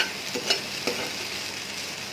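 Food fries quietly in a pan while being stirred, giving a soft continuous sizzle with a few light scraping taps and no talking.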